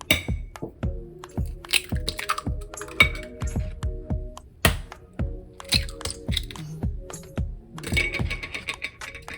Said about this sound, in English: And then I'm going to go ahead and start cracking my eggs